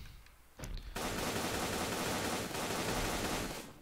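Rapid automatic gunfire in the video game Garry's Mod, a dense continuous burst of shots starting suddenly and running for about three seconds, loud and close with no talking.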